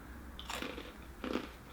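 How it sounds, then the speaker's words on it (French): Two quick crunchy bites into a crispy, toasted-bread-flavoured turtle-shaped Japanese snack, close and quiet, each a short burst of brittle crackling. "C'est très croustillant."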